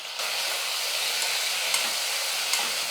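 Onions and tomatoes fry in a pan for a potato and chana dal curry, giving a steady, close hissing sizzle that holds evenly, with a couple of faint clinks and no voices.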